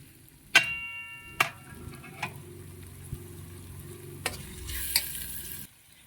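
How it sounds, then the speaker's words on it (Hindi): Spices fry with tomatoes in a pan for a vegetable dish, a steady sizzle running throughout, broken by several sharp knocks and scrapes of a spoon stirring against the pan. "इसमें डाल के अच्छे से इसको कुक करेंगे स्पाइसेस को साथ में।"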